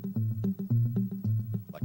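Electric guitar playing a jazz tune through a tape echo stomp box, a loping line of plucked notes with trailing repeats, close and upfront with no talking.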